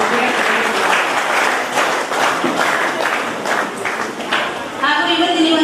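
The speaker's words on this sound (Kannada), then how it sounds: "ಜೋರಾದ ಚಪ್ಪಾಳೆಯೊಂದಿಗೆ ಒಂದು ಕಾರ್ಯಕ್ರಮಕ್ಕೆ ಸಹಕರಿಸಬೇಕು." An audience applauds at the inauguration ceremony of the 854th alcohol de-addiction camp in Kenchagar, with sustained dense clapping from a large crowd and a voice coming through over it near the end.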